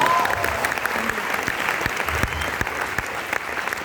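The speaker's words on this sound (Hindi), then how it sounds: "तालियां हो जाए इनके लिए, सबके लिए" An audience at a motivational talk for students claps for their teachers, a dense, steady wash of applause with a few sharper claps standing out, continuing throughout without speech.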